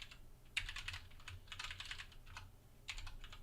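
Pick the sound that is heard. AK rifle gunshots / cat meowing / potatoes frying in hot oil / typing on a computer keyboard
typing on a computer keyboard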